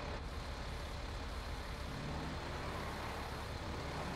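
A heavy truck engine idles steadily in a video game, a continuous low rumble that stays even and fairly loud throughout with no talking.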